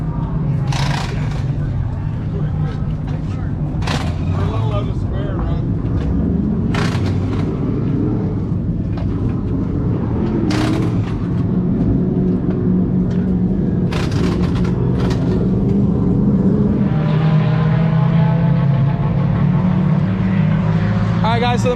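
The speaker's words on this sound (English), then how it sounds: "the mini stock race, or the pure stock race, sorry, is happening right now up on track" Pure stock race cars roar around an oval speedway at night, engines swelling and fading as they pass at a distance, with repeated sharp bursts and a continuous low rumble over a crowd murmur.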